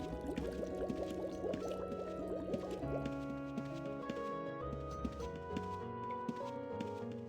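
Magical water-creation effect in the video game Ultima Online, a continuous pouring, bubbling liquid sound layered with tonal game music, steady and moderately loud throughout.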